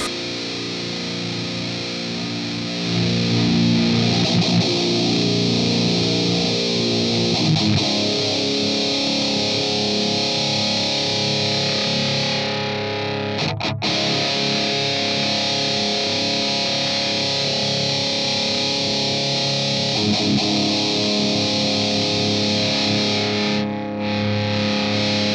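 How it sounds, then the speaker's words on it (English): An electric guitar plays a sustained, heavily saturated riff through an analog Boss Metal Zone distortion pedal, loud and thick with ringing chords and brief pauses between phrases. "Let's go back to the analog pedal, and let's mess with the distortion a little bit."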